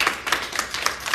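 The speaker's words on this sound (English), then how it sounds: "let's give God a hand clap for praise" Church congregation clapping hands in praise, a quick run of sharp claps at a steady beat, fairly close and alone with no talk.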